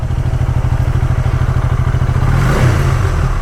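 A Honda Rebel 300 motorcycle engine running close and loud with a steady, rapid pulsing thump that swells slightly in a brief rev near the end.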